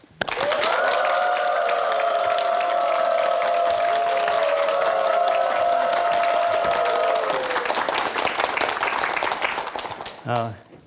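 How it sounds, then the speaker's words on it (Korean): A lecture audience at a televised talk claps warmly to welcome a company CEO and author to the stage, with sustained loud applause over held musical tones that dies away near the end. "큰 박수로 초대하겠습니다"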